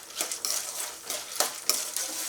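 Peanuts fry in hot oil for puliyodharai, a bright crackling sizzle with several bursts of stirring and scraping in the pan, close and clear, with no talk.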